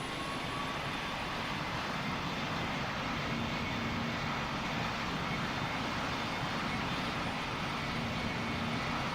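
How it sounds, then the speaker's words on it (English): An airplane in the Roblox game Pilot Training Flight Simulator roars steadily while taking off from the runway, a constant, close engine drone with a faint whine, unbroken from start to finish. "KLN 7381, clear to take off from runway 15"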